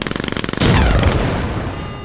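Video game firefight against a tank: a loud explosion bursts in after rapid rhythmic gunfire, then a long rumbling roar that slowly fades, with no talk.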